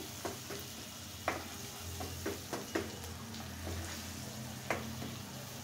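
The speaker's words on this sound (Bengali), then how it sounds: "এটা আমি খুব সুন্দর করে একটু ভাজা ভাজা করে নেব হালকা। যখন পেঁয়াজটা নরম হয়ে আসবে" Onion sizzling gently in a pan with frequent stirring clicks and scrapes, a low steady frying hiss underneath with a few sharper taps from the spatula, no talking.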